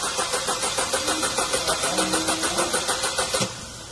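Car engine cranking on its starter motor while a clamp meter reads the current draw: a steady, rapid rhythmic churning of about a dozen even pulses, loud and close, cutting off abruptly near the end with no catch.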